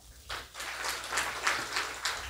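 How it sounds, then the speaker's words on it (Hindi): Audience clapping for itself at the close of a spiritual yoga-meditation gathering, a steady crowd applause rising after a brief quiet start and continuing at moderate distance with no voices. "अपने लिए ताली बजाओ।"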